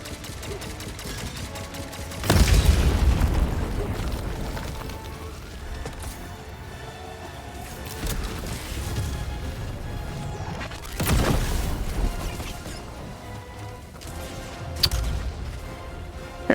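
A tank shells the player in a video game, with heavy booming explosions landing a few times, separated by quieter stretches of rumble.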